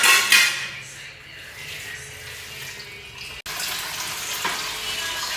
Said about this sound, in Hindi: जो बर्तन गंदे हुए थे मतलब सारी चीज़ें अभी जिनमें चावल भिगोए थे या जिसमें मसाला वगैरह रेडी किया है वो सारे बर्तन अभी मैं धो रही